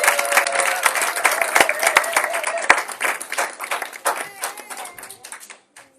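A church congregation at a Sunday service claps and applauds together, rapid overlapping hand claps with a few loud single claps, thinning out and fading to silence at the end.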